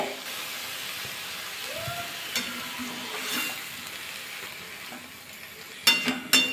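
Water poured into a hot pan of mung dal, potatoes and vegetables raises a steady, soft sizzling hiss, followed near the end by a few sharp clinks of stirring against the pan.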